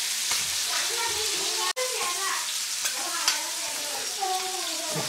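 Pomfret pieces fry two at a time in a flat pan, giving a steady, loud sizzle and crackle throughout while voices talk over it.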